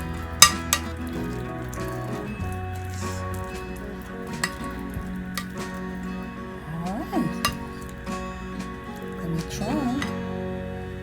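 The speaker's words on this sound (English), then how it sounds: "you mix everything well" Guacamole ingredients are mixed together in a bowl, giving soft intermittent clinks and scrapes of a utensil against the dish, faint and close beneath ongoing talking and a brief voice sound.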